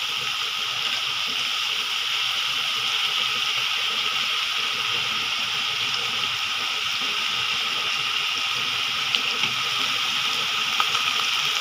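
Steady running water and splashing while raw shrimp are washed, a continuous wet hiss holding even throughout, with no talking.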